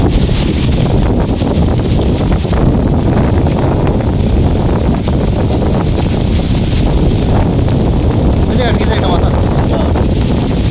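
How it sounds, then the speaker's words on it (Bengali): Strong wind blows steadily and loudly by a flood-swollen village pond, a constant roar of gusts buffeting the microphone with no letup. "বাতাস রে"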